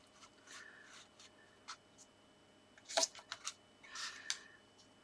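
Folded cardstock for an easel card being burnished flat: soft, close rubbing and scraping strokes in short bursts, quiet overall with a few sharper brushing passes near the end, no speech.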